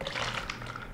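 Water poured from a measuring cup in a baking lesson, a brief soft splashing pour lasting about a second, close but fairly quiet, with no talk over it.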